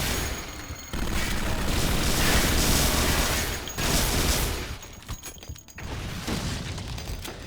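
Minigun fire in the first-person shooter Duke Nukem: Alien Armageddon, a loud, sustained rattling barrage that runs in long continuous bursts with brief breaks around the midpoint, dense and close with booming impacts mixed in.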